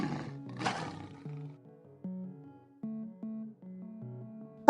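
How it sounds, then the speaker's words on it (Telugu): A lion gives one short, fairly loud roar at the start, followed by soft, sparse melodic tones in an animated wild-animals lesson for children. "లయన్ సింహం,"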